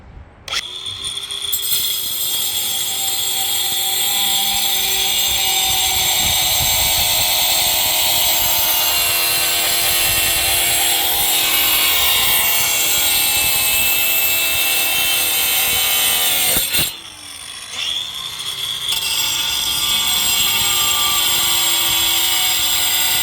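A cut-off wheel grinds steadily against metal, loud and close, in a continuous high whine that dips briefly, then resumes at full intensity.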